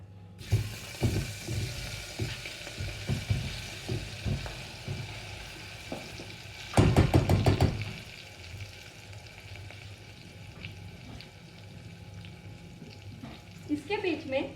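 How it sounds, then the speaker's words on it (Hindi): Aubergine, mixed vegetables and muthiya dumplings are layered into a pressure cooker for Gujarati undhiyu, with soft sizzling under repeated thumps and clatters of pieces dropping in and a busy rustling burst midway. "तो पहले हम थोड़ी सब्जी डालेंगे।"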